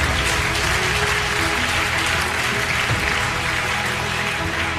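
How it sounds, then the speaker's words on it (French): A congregation claps during a French-language healing prayer service, a dense and continuous wash of many hands at an even, moderate level. "Louons Dieu et applaudissons le Seigneur"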